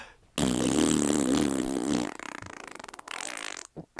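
A voice imitates a wet fart with one loud, sputtering, spluttery burst lasting nearly two seconds, then a rougher, quieter tail of noise.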